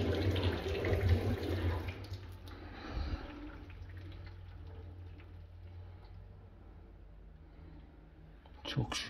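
Water rushing through newly installed combi boiler plumbing as the supply is opened, a steady broadband flow that fades gradually, with someone speaking over it.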